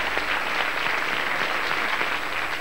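Studio audience of a Valencian TV quiz show applauds after a round, a continuous, fairly loud burst of many hands clapping evenly, with no voices over it.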